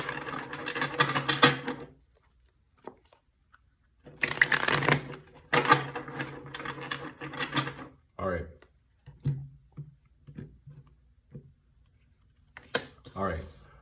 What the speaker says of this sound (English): Let's get a good shuffle